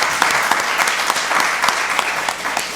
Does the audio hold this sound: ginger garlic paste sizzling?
no